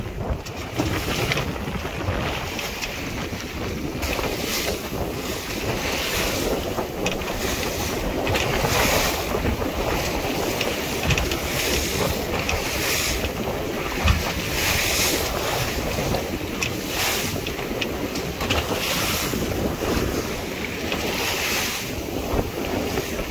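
A sailboat heels through sea swell off Rame Head with waves rushing and slapping along the hull. Heavy wind buffets the microphone in a constant loud roar throughout.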